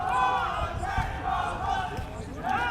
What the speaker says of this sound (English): Huge cheer for Bulls.